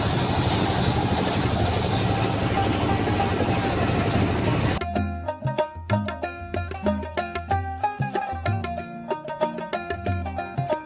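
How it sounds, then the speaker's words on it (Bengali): Diesel-engine trawler ferry crossing a river at a Barisal ferry ghat: a steady, loud, broadband engine drone fills the first half, then gives way abruptly to music. "এই ইঞ্জিন চালিত ট্রলারগুলো"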